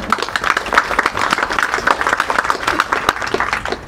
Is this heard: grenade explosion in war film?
no